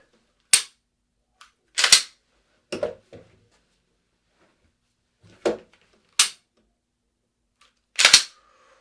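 Pistol shots at a shooting range during a skills test crack out as about six sharp, close, loud reports at irregular intervals, with silence between them and no talking.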